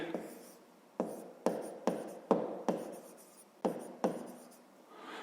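A pen writes math on paper, close and quiet, in a series of about nine sharp scratchy strokes with short pauses between them and no one talking.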